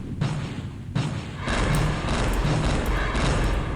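A weapon explodes on a combat mech in the video game Earthsiege 2. Sharp, booming bursts are followed by a sustained, rumbling crash of debris and noise.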